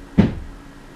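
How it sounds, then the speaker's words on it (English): A single sharp bang from roof-replacement hammering, heard indoors at a distance as one short knock that quickly fades. "that's what the hammering is you're hearing in the background."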